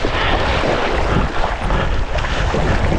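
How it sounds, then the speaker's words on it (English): Gusty wind roars across the microphone during kite foiling on the water, a loud, continuous buffeting rush that fills the whole moment with no voices. "Oh, it's super gusty in here. The wind has changed direction on me."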